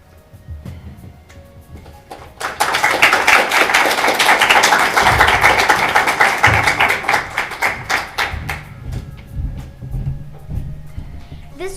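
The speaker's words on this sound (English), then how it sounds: "So another round of applause, I would say, for them." An audience at a school exhibition applauds after a student presentation: dense, loud clapping starts abruptly, holds steady for several seconds, then thins into scattered claps as it fades, with a few faint voices underneath.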